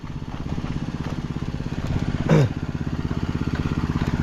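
A motorcycle engine runs steadily nearby with a rapid, even pulsing throb, and a brief louder clatter rises around the middle before the idle continues.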